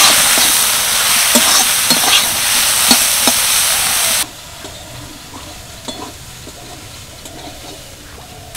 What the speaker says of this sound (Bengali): তেলের মধ্যে দিয়ে দিচ্ছি জল ঝারিয়ে রাখা সয়াবিন, অল্প একটু নুন আর সামান্য একটু হলুদ গুঁড়ো দিয়ে ভালো করে ভেজে নেব।